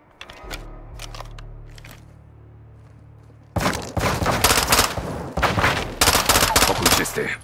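Gunfire in Call of Duty: Modern Warfare 2 (2022) breaks out in loud, close bursts of rapid shots after a few quieter seconds, with the volleys repeating to the end.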